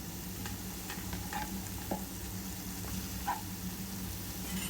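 Chopped capsicum frying in a pan for vegetable pasta, a steady close sizzle and crackle with a few stirring scrapes, and no voices.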